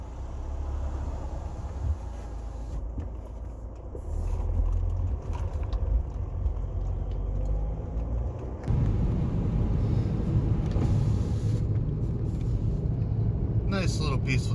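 Steady road and engine drone from inside a moving 2006 Volkswagen Jetta TDI on a calm drive, a low rumble that swells louder partway through, with a voice talking over it.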